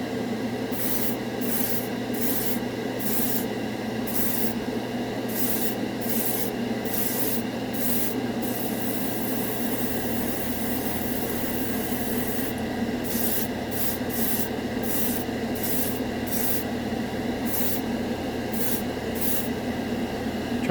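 An airbrush sprays Turbo Dork color-shifting metallic paint, with a continuous close hiss broken by a rapid series of short bursts early on, then a steady stretch, then more regular pulsed bursts toward the end.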